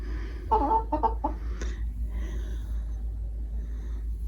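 A backyard hen gives a few short, close clucks early on, then the sound fades to a steady low outdoor hum with faint background noise.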